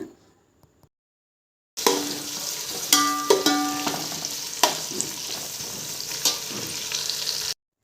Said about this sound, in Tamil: நீளமாக நறுக்கி வச்ச 3 பெரிய வெங்காயம், 4 பச்சை மிளகாய் ஆட் பண்ணி நல்லா வதக்கி விடுங்க